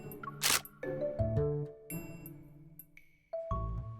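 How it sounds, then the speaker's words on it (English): A phone camera shutter clicks once in the game Love and Deepspace, a short sharp burst set among soft chiming musical tones. "I hear the click of a shutter button."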